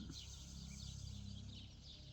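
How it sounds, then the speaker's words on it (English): Birds singing outdoors, faint high chirps and twittering scattered over a low steady background rumble, with no voices. "Do you hear the birds?"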